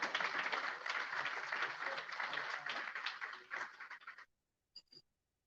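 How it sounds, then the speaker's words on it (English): An audience at a business networking event applauds after a speech, dense clapping for about four seconds that tapers off abruptly, followed by a couple of last isolated claps. "Can you please give him another round of applause?"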